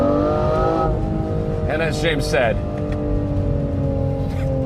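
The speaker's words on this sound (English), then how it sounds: "I have yet to tire of the sound of that V12" A 2025 Aston Martin Vanquish V12 drones steadily under close speech, its engine note holding a constant, throaty hum with a brief rising surge partway through.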